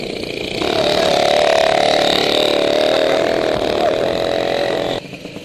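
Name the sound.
Peugeot 103 SP moped engine running during carburetor tuning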